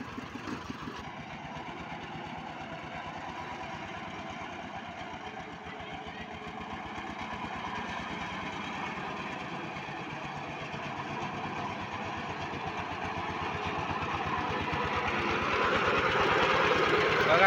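Diesel engine of a hydraulic motor van (votvoti) fitted with a Chhota Hathi gearbox, idling with a steady rapid knocking chug that grows louder toward the end.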